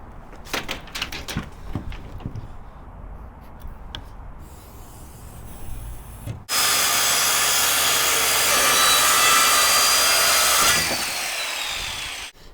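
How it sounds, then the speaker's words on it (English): A power saw cuts a sheet of plywood for a bed in an E350 box truck camper conversion. Scattered handling knocks come first, then one loud, sustained, close-up cut that lasts about four seconds and stops abruptly. "the time has come to start cutting our piece of plywood that's gonna go on top of our bed"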